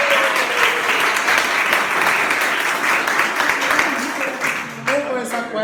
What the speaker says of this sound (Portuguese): Uma salva de palmas para o Edson.